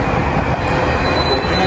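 Locomotive 137 leads a train rolling past at Arlington Park, a loud, steady broadband rumble of wagons with a faint high wheel squeal, close by and continuous.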